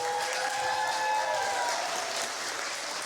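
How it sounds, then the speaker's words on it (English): An audience applauds steadily throughout, a dense wash of clapping with faint cheering from a crowd at a community event for a speaker named Diana, loud and continuous with no one speaking. "let's clap it up for Diana"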